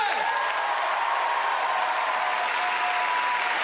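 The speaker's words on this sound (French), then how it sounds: "Applaudissements, You Humour, s'il vous plaît." Crowd at a YouHumour comedy festival show in Nantes applauds continuously, a thick even wash of clapping with faint cheering mixed in.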